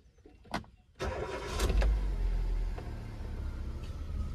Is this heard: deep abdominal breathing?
no